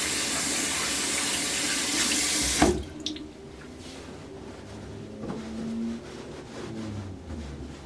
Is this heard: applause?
no